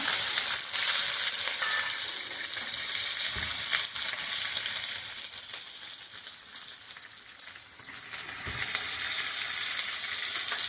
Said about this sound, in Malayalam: ഇത് ഇഞ്ചിയും വെളുത്തുള്ളിയും അരച്ചത് ഉള്ളി വഴഞ്ഞിട്ടുണ്ട്